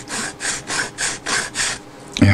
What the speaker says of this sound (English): you have to be prepared to just do a little gentle sanding.